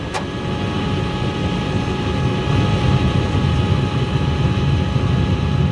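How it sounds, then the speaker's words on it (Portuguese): Airliner propeller engines drone steadily inside a cockpit with the flaps at 15 and the landing gear down, a dense continuous low rumble with no talk. "Nós tentamos analisar o som dos motores."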